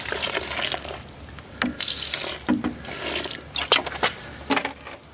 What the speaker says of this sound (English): We'll go ahead and water the planting mix just to see how much it's going to settle.